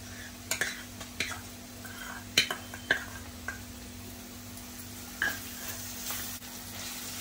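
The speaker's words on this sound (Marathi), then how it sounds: "ते पण अगदी अर्धा मिनिट परतून घ्यायचं आहे आलं लसूण" Crushed ginger and garlic sautéing with browned onion in a hot pan, a steady close sizzle broken by several sharp spatula scrapes and clinks as the mixture is stirred.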